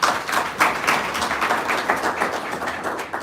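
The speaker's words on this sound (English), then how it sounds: "Another round of applause." An audience at a school dissemination workshop's closing applauds, with a steady patter of many hands clapping at moderate loudness that stays even throughout, with a couple of slightly stronger bursts.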